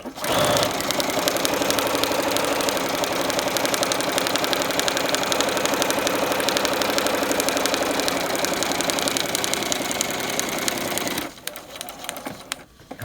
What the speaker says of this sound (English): I will continue sewing this first direction